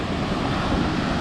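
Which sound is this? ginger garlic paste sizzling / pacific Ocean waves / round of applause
pacific Ocean waves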